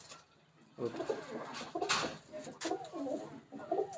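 Imported Teddy pigeons in a loft give repeated soft, rolling coos close by, one after another over steady background noise.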